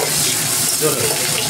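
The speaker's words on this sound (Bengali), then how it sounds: "এই দেখুন পেঁয়াজটা ভাজা ভাজা হয়ে গেছে।" Onions sizzle and crackle steadily in a hot pan, a continuous close frying hiss with no voices.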